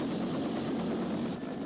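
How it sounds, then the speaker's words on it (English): A specially outfitted Bell 205 helicopter, a crash rescue craft from 1982, drones with a steady loud rotor and turbine roar that holds constant throughout, with no talk. "a specially outfitted Bell 205 helicopter"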